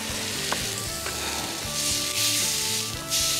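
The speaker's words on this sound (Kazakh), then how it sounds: "Екі жағын жақсылап тұрып қуырып аламыз табамызда." Beef fries in a pan with a close, steady sizzle and crackle, swelling in bursts of spitting, while a faint tonal hum runs underneath; no one speaks.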